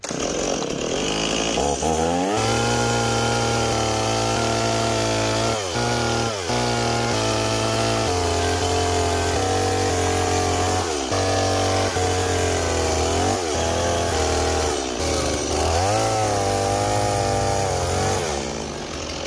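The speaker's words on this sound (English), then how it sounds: "we're gonna have to use a chainsaw." A chainsaw roars continuously at close range, its pitch dipping and rising repeatedly as it cuts through fruit, with no pauses.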